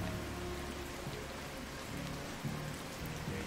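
Steady rain falls in a video game, a soft continuous patter and hiss on surfaces with faint low rumbles underneath, even and unbroken throughout.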